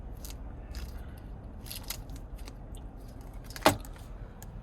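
Key fob for a 2026 Lexus GX 550 Premium gives a few faint metallic jingles, then one sharper clack near the end, all quiet over a low hum with no talking.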